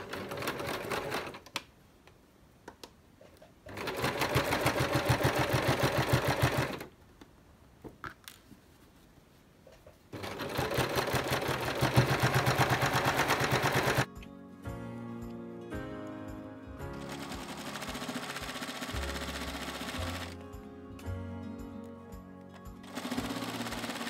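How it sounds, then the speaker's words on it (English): Sewing machine stitching fabric for a crochet project bag, running in steady loud bursts separated by quiet pauses, then a faster rhythmic clattering stretch near the end. "I will be sewing."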